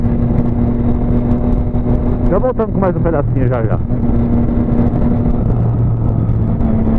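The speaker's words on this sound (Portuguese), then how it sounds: "Tem muita moto, meus jovens amigos." A large group motorcycle ride of hundreds of bikes on a road near Curitiba, with a steady loud engine drone and a burst of revving passes in the middle, under someone talking throughout.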